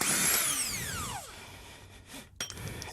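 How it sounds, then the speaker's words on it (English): Power tool whine from an impact gun spinning a 19 mm nut off a power steering pump pulley on an Acura TSX, pitch falling as it winds down, followed by a short burst and clatter. "I'm using an impact gun"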